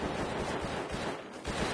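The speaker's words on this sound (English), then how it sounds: "They're shooting at each other." Players exchange rapid gunfire in a Rust battle royale match, with dense, continuous bursts of shots packed close together and loud throughout the short stretch.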